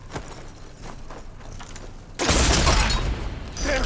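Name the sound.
cannon firing in video game Horizon Forbidden West Burning Shores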